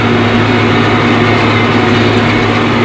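A tractor engine runs loudly with its turbo working, without exhaust suction, while chopping rice stalk, giving a constant, heavy, close drone with a steady low hum throughout.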